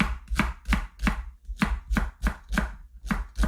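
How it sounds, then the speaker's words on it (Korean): A knife finely chopping green onions on a cutting board, about a dozen crisp, evenly spaced chops in a brisk steady rhythm, close up, with no voices. "파를 좀 곱게 썰어주세요"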